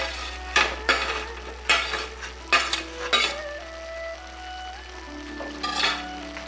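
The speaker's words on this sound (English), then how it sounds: "Get them all mixed together thoroughly so that all the flavours are mixed" Pork larb being stirred in a pan with palm sugar, coriander and mint, a series of sharp metallic scrapes and clinks of a utensil over a soft sizzle and a steady low hum.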